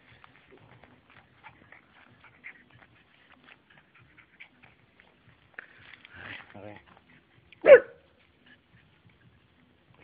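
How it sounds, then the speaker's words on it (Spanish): A dog in a workshop gives one sharp, loud bark after a stretch of faint shuffling and sniffing, with a person speaking briefly nearby. "¿Quién ha ladrado?"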